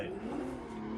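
Racing car engine in Assetto Corsa held at a steady high drone under full throttle during a drift practice run, a fairly faint continuous tone with no talking over it.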